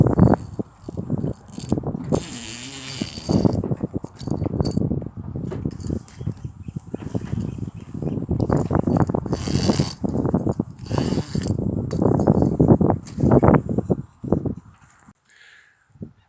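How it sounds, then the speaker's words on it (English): Two external zips are undone along a boat's cockpit tent where it fastens to the back of the spray hood, giving close, uneven bursts of zipper rasping and fabric rustle with short pauses between pulls. "My colleague will now undo the two external zips that fasten the cockpit tent to the back of the spray hood."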